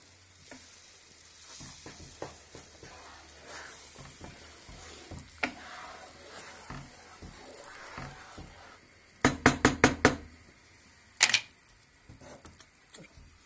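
Sarma stirred in a pot after syrup is poured in, a run of soft scraping and clattering spoon strokes with sizzling underneath, plus a quick burst of sharp metallic clinks near the end.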